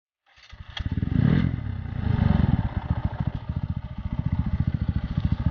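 A Bajaj Boxer 150 motorcycle on a forest off-road trail starts up close by and settles into a loud, steady, pulsing single-cylinder throb at low revs, with no voices.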